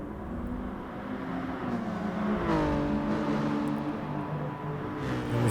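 A race car engine in a racing video game whines and climbs through the revs, the pitch rising and shifting as it accelerates, loud and continuous with no voices.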